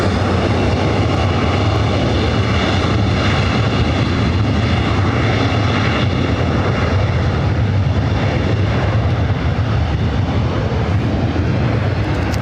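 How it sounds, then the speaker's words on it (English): An ITA Airways Airbus A330neo jet takes off from the south side at LAX, a loud, steady broadband engine roar that holds throughout, slowly swelling and shifting as the widebody accelerates. "ITA, the A330 Neo, taking off there on the south side"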